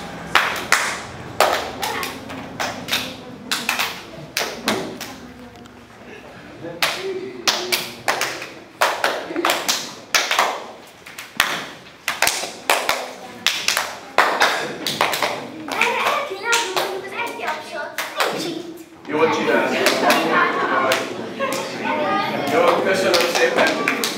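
Children clap in a drama workshop exercise, giving sharp, uneven hand claps in separate bursts and passes around a group, with louder, denser clapping toward the end and occasional voices between.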